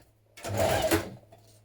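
A home sewing machine runs a short burst of stitching on a hoodie neckband, a brief, fairly close mechanical whir lasting under a second between quiet pauses.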